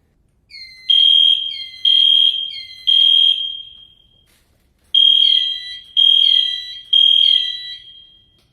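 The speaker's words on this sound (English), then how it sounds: "Sometimes a drill is signaled solely by the fire alarm." A school fire alarm sounds in two bursts of three loud, shrill tonal beeps, each about a second long, separated by a brief pause.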